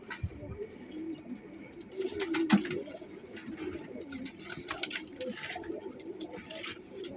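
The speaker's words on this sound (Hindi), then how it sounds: "छोटी सी दुम है इसकी और बंद जोड़ में कबूतर है ये" Soft, low coos of a male pigeon repeat at close range, with light pattering and fluttering sounds in the background.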